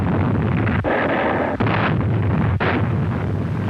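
Naval gunfire bombards Mount Suribachi on Iwo Jima in a loud, continuous rumbling roar. A few abrupt breaks cut it, and it sounds like dense, distant heavy shelling.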